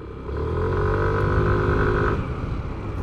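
Yamaha NMAX V3 scooter engine running nearby, a steady motor hum that swells briefly as it revs and then eases back toward idle.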